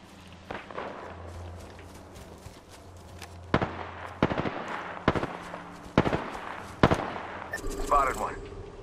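Gunfire in the Apex Legends video game: a series of sharp, loud shots at irregular intervals, some in quick bursts, with game voice lines and a low background hum in between.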